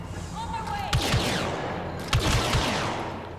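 Blaster fire in Star Wars Battlefront II, with sharp laser shots ringing out twice amid a constant battlefield din, a descending zap sweeping across the mix and scattered thuds underneath.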